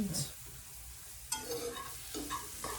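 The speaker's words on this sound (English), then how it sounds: "And 2 tablespoons of flour. I'm just gonna whisk this together." Butter and flour being whisked together in a new pan over medium heat, a soft scraping stir with a quiet sizzle and a few light clinks of the whisk against the pan.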